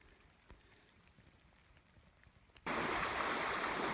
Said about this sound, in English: I've reached the creek crossing. This is Scott Gomer Creek